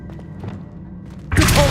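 In Hogwarts Legacy, the Accio summoning spell lands as a sudden bright whooshing burst with a thudding impact, loud and close, following a quiet stretch of faint game ambience and soft knocks.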